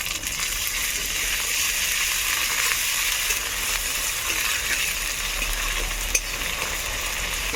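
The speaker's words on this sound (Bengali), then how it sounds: "পেঁয়াজ আদা রসুনটাকে ভেজে নেওয়া হয়ে গেছে" Chopped onion with ginger paste and garlic paste fries in a pan for palak paneer, giving a close, steady sizzle with no talk and one small clink near the end.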